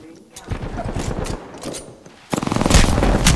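Gunfire in a shooter video game: scattered muffled shots and mechanical clatter give way to a loud, rapid automatic burst in the final second.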